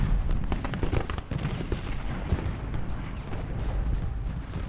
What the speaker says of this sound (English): Let's go ahead and shell shot.